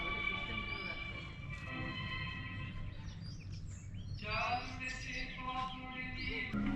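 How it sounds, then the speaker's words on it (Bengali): Birds chirp and call in an open park in Sonargaon, with repeated bright tweets rising over a constant low rumble of outdoor background noise, fairly near and clear. "এই যে পাখির সাউন্ড আপনারা পাচ্ছেন কিনা জানি না"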